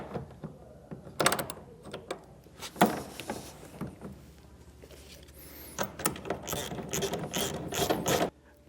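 Ratchet tool tightening tonneau cover clamps on a 2024 Ford F-150 bed, giving bursts of rapid clicking ratchet strokes, moderately close, with pauses between and a longer run of clicks near the end.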